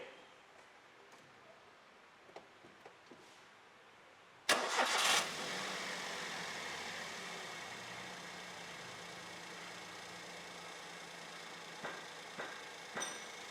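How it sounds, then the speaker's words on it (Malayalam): A Maruti Wagon R at a service workshop cranks and fires up after a brake oil change, a sudden loud start that settles into a steady idle with a few faint clicks, after quiet background with light voices. "ബ്രേക്ക് ഓയിലും കൂടെ മാറിയാൽ വണ്ടി ഒന്ന് സ്റ്റാർട്ട് ചെയ്ത് നോക്കാം."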